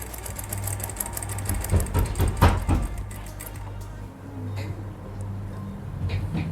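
Sewing machine stitching an Afghani salwar with a very fine stitch, running in steady rapid bursts with ticking mechanical clatter, close and fairly loud, pausing briefly near the end before starting again.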